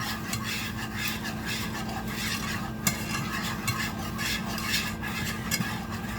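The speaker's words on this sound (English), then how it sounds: "So I'm gonna whisk it, stir it for a minute, get the flour dissolved" A whisk scrapes rhythmically around a pan as flour is worked into lasagna sauce, close and continuous over a soft sizzle, with a few sharper clinks of metal on the pan.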